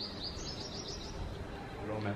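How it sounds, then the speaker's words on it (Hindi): Sparrows chirp outside, a thin, steady stream of small tweets set back at a moderate distance over a constant background hiss, with no talking. "पूरे टाइम यहाँ पे कोई ना कोई चिड़िया मतलब स्पैरो जो एक टाइम पे आना ही बंद हो गई थी अब फिर से आने लग गई है"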